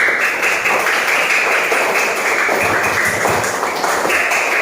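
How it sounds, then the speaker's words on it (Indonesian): Classroom applause for a student group during a teacher-training practice session, loud, close and sustained clapping from many hands in a steady dense patter lasting several seconds. "tepuk tangan untuk kelompok 1"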